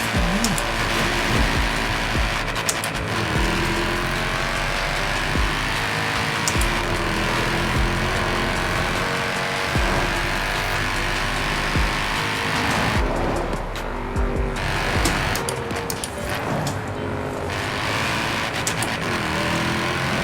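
Mercedes-Benz C63s AMG drifting in Forza Horizon 4, a loud continuous game engine roar with revving, shifting and tire squeal, dense and steady throughout with brief dips near the end.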